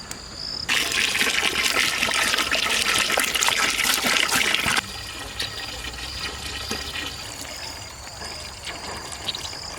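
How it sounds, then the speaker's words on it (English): Water gushes steadily into a cooking pot to boil rice for kuska, a loud close pour that stops abruptly after a few seconds and gives way to quieter trickling and bubbling. "now we add sufficient water to boil the rice."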